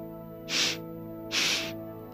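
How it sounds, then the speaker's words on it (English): Two short, breathy sniffs drawn in through the nose during a yoga breathing exercise, soft and close, evenly spaced in a sipping rhythm, with no voice. "we're going to take a 3-part inhale, almost like you're sipping the breath through the nose."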